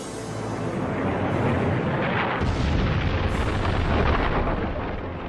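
A huge explosion from a celestial impact erupts as a loud, sustained, broad roar and rumble that swells midway and holds without any voices.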